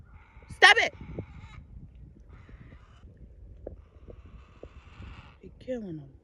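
A bird gives a loud, harsh squawk near the start outdoors, followed by fainter calls and chirps scattered through the rest, with low rustling ambience underneath.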